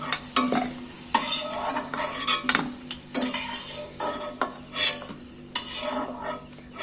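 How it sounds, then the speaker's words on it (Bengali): Potatoes fried until reddish are lifted out of hot oil with a metal utensil. Clinks and scrapes against the pan repeat steadily over a soft background sizzle, with no talking. "এইবার আমি আলুগুলোকে তেল থেকে তুলে নিচ্ছি"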